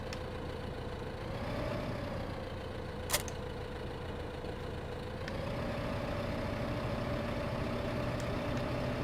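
A tractor engine idles in the video game Farming Simulator 2015, a steady, moderately quiet droning hum with a slight pitch wobble, one sharp click near three seconds, and no talking.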